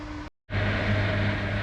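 A steady mechanical whir and low hum from a Brew Tools home brewing system pumping through a clean-in-place cycle, briefly cutting out before running on continuously, close by with no voices.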